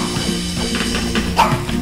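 Two small dogs, one a shih tzu, play-wrestling, with close, busy scuffling and a few soft yips and growly bow-wow sounds throughout.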